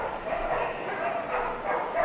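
A wire-haired terrier barks and yips in quick, rough bursts against a busy, noisy background, fairly loud and close.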